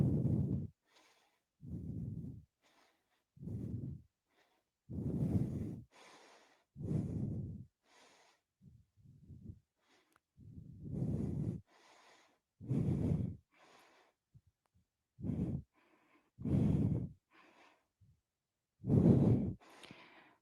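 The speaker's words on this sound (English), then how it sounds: "Try to connect into that breathing." A person works out with resistance bands, breathing in loud, steady exhales and sighs about every two seconds, close and with no talk.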